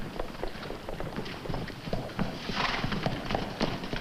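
Horses' hooves clip-clop in a steady, close rhythm on hard ground, with brief whinnies and faint rustling around them.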